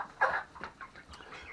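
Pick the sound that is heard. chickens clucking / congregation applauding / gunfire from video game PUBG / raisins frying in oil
chickens clucking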